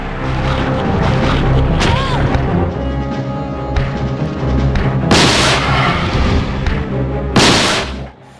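Gunfire against a monster in Resident Evil 2, heavy booming shots spread over several seconds with two especially sharp, loud blasts near the end, set against dense game sound and music.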